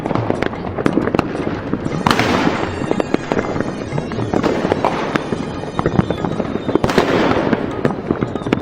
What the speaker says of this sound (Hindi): लोग यहाँ पटाखा फोड़ रहा है